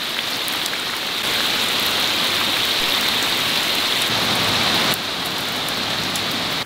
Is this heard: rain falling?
yes